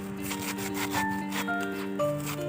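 A hand saw cuts through a soft banana tree trunk, making faint, rhythmic rasping strokes about every half second over a quiet tonal background.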